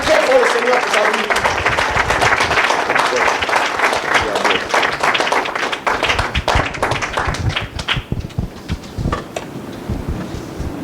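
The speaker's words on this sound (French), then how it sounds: "On acclame très fort le Seigneur pour sa vie." A church congregation bursts into loud, sustained applause, dense rapid clapping that fills the space and then thins into scattered, uneven claps toward the end, with voices mixed in.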